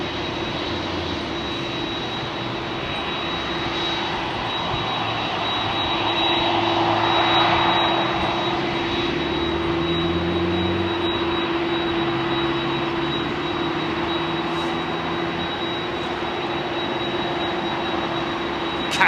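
An American jet airliner roars on takeoff at London Heathrow Airport, a loud, sustained engine rumble and whine that swells to a peak midway and then holds steady, with distant airport ambience.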